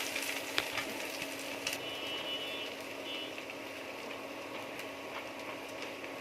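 Garlic fries in hot oil with chillies, a steady bright sizzle with a few small pops and crackles throughout.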